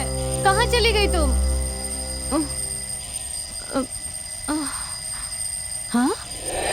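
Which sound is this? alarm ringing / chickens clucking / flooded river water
alarm ringing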